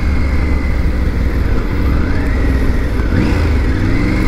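A Triumph Tiger 900 GT motorcycle engine braking on the road, its steady engine drone continuous and close with slight pitch shifts as the revs settle, alone without talk.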